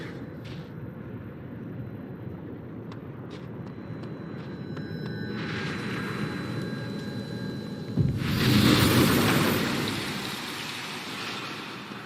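A psychic storm in the Life is Strange video game builds from steady rain and a low rumble, swelling gradually, then breaks into a loud crash of thunder and heavy downpour that slowly fades.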